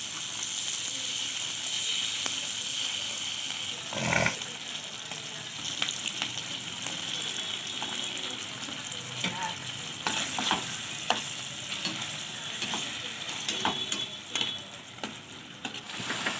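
Onions and capsicum fry in oil for chilli chicken, a steady soft sizzle broken by repeated scraping and clinking of a spoon stirring the pan, with one sharper knock early on.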